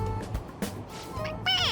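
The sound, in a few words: stuffed toy cat meowing when pressed, Persona 5 Royal video game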